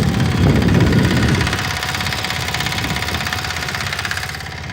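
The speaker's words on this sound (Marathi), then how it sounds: "हे ट्रॅक्टर चालू आहे मित्रांनो" A tractor ploughing between rows of a cotton field runs nearby with a loud, rhythmic diesel chugging, steady and throbbing, easing slightly after the first second.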